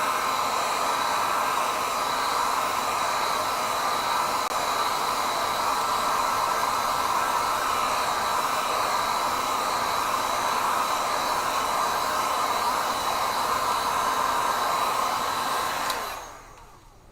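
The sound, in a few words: hair dryer drying gouache paint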